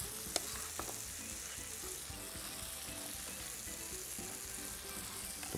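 Onions are added to chickpeas frying with ginger and garlic, giving a steady, close sizzle with faint stirring.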